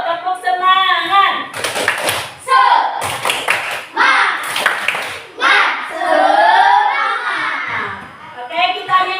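A classroom of children doing a rhythmic spirit clap, bursts of sharp claps in set patterns alternating with kids chanting and shouting along, close and lively.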